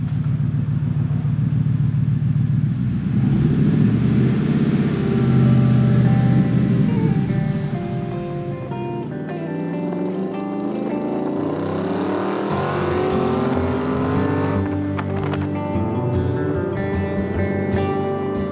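A Factory Five Mark IV Cobra replica roadster's engine runs loud and close, a deep rumbling idle that rises into revving and accelerating, with no talk over it.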